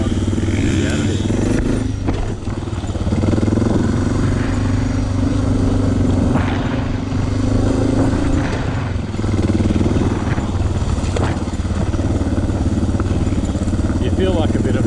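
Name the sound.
Suzuki DR650 motorcycle riding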